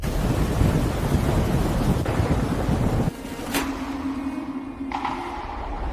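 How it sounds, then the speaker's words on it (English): Thunderstorm over a city, with heavy rain roaring steadily, then a sharp crack of thunder and a second fainter strike after the rain eases, no talking. "A severe storm is making its way through the city."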